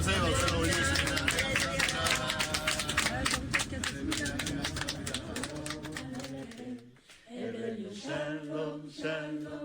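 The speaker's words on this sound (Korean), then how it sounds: "우리 하나님께 한번 감사의 박수를 올리겠습니다" A church congregation at a Friday worship service claps in thanks, a dense rapid patter of many hands that fades after several seconds into singing and music.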